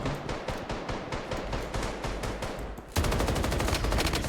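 Gunfire in the BloodStrike battle royale game: rapid automatic bursts with evenly spaced shots, the first burst slightly quieter, then a louder, denser stream of fire close by.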